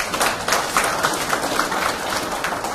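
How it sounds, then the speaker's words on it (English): Audience applause at a Fijian ceremony handing over school boats and buses, a dense, even patter of clapping from a crowd, moderately loud and continuous for the short stretch. "round of applause, ladies and gentlemen."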